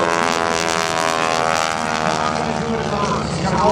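A propeller-driven aerobatic plane flies a loop at an air show. The engine drones steadily and loud with a shifting pitch, and someone talks over it the whole time.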